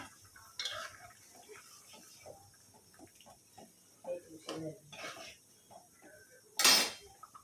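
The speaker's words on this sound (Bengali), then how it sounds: "এই যে পুঠি মাছগুলা পুঁটি মাছগুলা দিয়ে দিলাম" Small puti fish go into a pot of curry at a rolling boil, with one sharp, loud clatter and splash standing out near the end amid scattered soft kitchen clinks and a person talking throughout.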